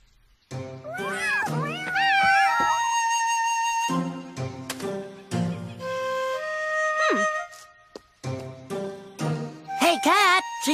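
Cartoon Siamese cats meow in swooping, voice-acted cries, several in a row, with a long sustained tone and light tinkling in between; the meows are performed by human voices.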